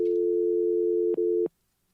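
A telephone line tone holds steady and loud for about a second and a half, broken by two sharp clicks before it cuts off into near silence.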